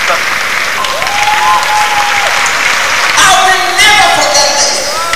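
Crowd cheering and applauding a Nigerien film figure at a public event, a dense roar of clapping with voices rising and swelling in bursts, loud and close.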